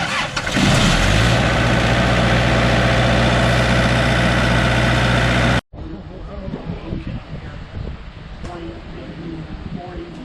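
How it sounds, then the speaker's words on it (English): A diesel power generator at an amateur radio field day cranks, fires up and settles into a loud, steady running drone before the sound cuts to quieter outdoor ambience, with people talking nearby. "All right, diesel power generator."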